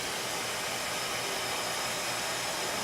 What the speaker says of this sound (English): I'm going to hit this hair just once with the blow dryer